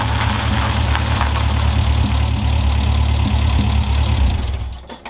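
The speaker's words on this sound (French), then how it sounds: "Le bruit est toujours aussi sympa, c'est un vrai plaisir de le redémarrer à chaque fois" A Renault Trafic Custom van idles steadily after being restarted, its engine giving a low, even rumble up close that drops away at the end.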